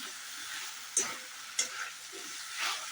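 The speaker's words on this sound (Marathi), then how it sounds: "हे तळलेले जे बटाटे आहेत ते सगळे ह्याच्यात घालायचे आहे आणि परतून घ्यायचे आहे" Fried potato pieces for chili potato are tossed and stir-fried in a pan, giving a soft, even sizzling hiss with a couple of quick utensil clinks, fairly quiet and close.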